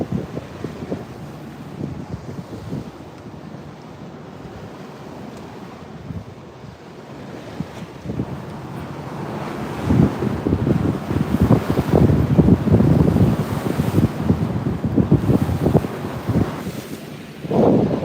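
Wind and ocean waves on the open Pacific aboard a 65-foot Hatteras long-range cruiser, a constant roar of wind buffeting the microphone with surging wave wash that grows louder midway, no talking.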